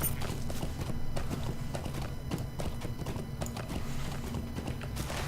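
Horse hooves clip-clop steadily in Lord of the Rings Online as a ridden horse travels through the Weather Hills, a brisk, even rhythm of close, clear hoofbeats over a soft game ambience, with no talk.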